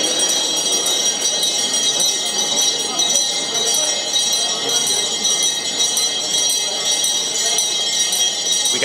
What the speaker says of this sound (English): I think that bell signifies the start of the auction.